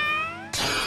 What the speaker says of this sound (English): Another catfight going on.